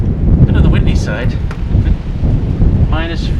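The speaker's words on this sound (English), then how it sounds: "Bit on the windy side." Steady, loud wind buffeting the microphone on a cold ATV trail, a constant low rumble with gusts, with faint chirps or squeaks over it.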